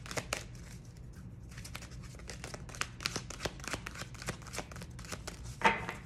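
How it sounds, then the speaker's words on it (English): Tarot cards shuffled with a soft, silky riffling: a steady run of quick papery flicks and slides, close and moderately quiet, with a slightly sharper burst of card noise near the end and no talking. "These cards sound silky."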